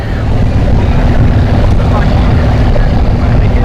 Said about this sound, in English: Ooh, we got a lifted truck.